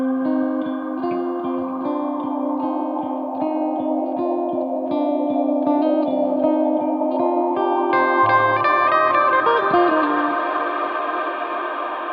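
Electric guitar through a Fractal FM3 with an auto wah behind a plex delay reverb, sustained swirling chords with slowly moving shimmering echoes, continuous and full, no talking.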